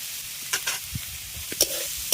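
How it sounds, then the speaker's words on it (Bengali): Ground Gobindobhog rice being stirred with banana flower in a pan, a few scraping spoon strokes and soft sizzling bursts over a quiet background, no talking. "এটা দিয়েও খুব ভালো করে একটু কষিয়ে নেব"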